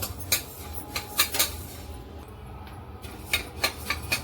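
Coriander seeds dry-roasting in a pan for homemade cumin-coriander powder, stirred with a spoon that taps and scrapes the metal in short clustered clinks over a faint background hiss, close and moderately loud, no talking.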